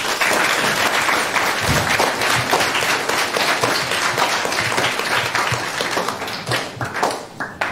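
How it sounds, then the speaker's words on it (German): Sustained, dense applause from an audience for a student team at a youth hackathon presentation, steady and loud for the whole stretch with no talk over it. "Von daher einen riesigen Applaus für die Gruppe Pixel Zeitmaschine."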